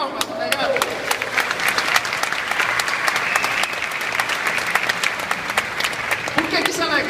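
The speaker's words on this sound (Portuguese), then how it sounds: "Vamos bater palmas, tá ligado?" Audience at a university talk applauds in steady, dense clapping that carries on for the whole stretch, loud and close, with no break.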